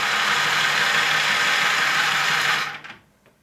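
A small electric motor drives a Matchbox Cascade tabletop marble game, a steady close whirring hum that runs evenly and then winds down and stops near the end.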